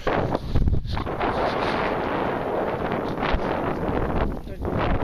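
Wind blowing across a cold, high spot in Arches National Park, heard as a steady, loud buffeting roar against the microphone that barely lets up throughout.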